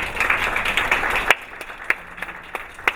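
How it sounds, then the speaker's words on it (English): Audience applause after a health and wellness talk: a dense wash of clapping from a room full of people fades out abruptly, leaving a few scattered, isolated claps. "Let's give her another hand of applause."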